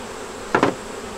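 Honey bees buzz around open hive frames during an inspection of a colony with eggs and brood, a steady hum with two sharp close passes of a bee near the middle.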